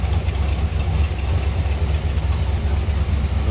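A steady, deep V8 engine rumble from a 1966 Chevrolet Chevelle SS 396 idles without change, close by and fairly loud, with a faint mid-range hum riding over it.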